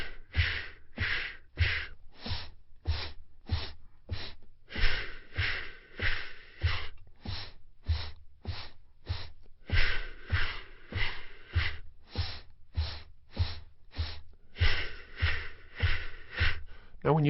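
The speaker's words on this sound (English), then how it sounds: "Inhaling from the nose, bringing the air in and filling yourself up, and then exhaling all the way out" Slow, deep breaths, each drawn in through the nose and pushed fully out, repeat in a steady rhythm of close, clear inhales and exhales. The breathing continues alone throughout, with no words spoken.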